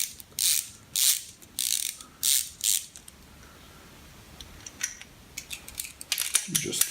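Ratchet clicking while loosening bolts on a Suzuki GSX-R 750 SRAD engine during dismantling, several quick loud bursts of ratcheting close by, then a quieter stretch with softer mechanical clicks and handling noise.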